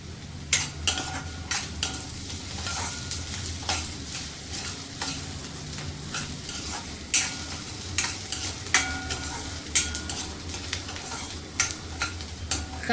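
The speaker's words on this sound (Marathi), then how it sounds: "कांदा चांगला फ्राय करून झालेला आहे." Onion, garlic and ginger fry in a pan with a steady sizzle while a spoon stirs and scrapes through them in repeated knocks and scrapes, close up.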